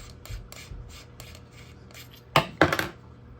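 Lower core of a metal Jedi Killer Gen2 lightsaber prop being unscrewed, giving soft repeated metallic scrapes followed by two louder close clinks and rattles of metal parts, with no talking.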